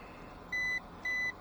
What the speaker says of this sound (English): Shallow water alarm, yes.